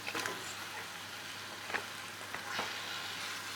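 Chicken pieces frying in a pan of tomato masala for a chicken roast, a soft, continuous close sizzle with light stirring clicks and no talking.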